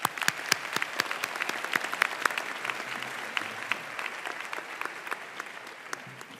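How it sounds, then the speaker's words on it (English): A crowd at a nursing school graduation ceremony claps steadily for several seconds, sharp individual claps blending into a dense, even applause. "let's still give her a round of applause"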